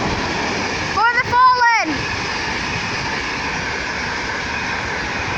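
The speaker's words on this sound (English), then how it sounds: "Now passing through the Virgin Trains East Coast." A Virgin Trains East Coast train passes through Dunbar station on the East Coast Main Line, a steady loud rushing roar with a brief tonal whine partway through. A voice speaks over it.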